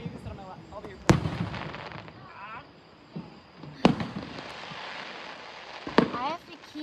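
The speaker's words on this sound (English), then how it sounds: "Watch the fireworks." A fireworks show at Ocean Isle Beach, marking a 250th anniversary, with three sharp booming bursts a few seconds apart, crackling and whistling between them, while people chat nearby.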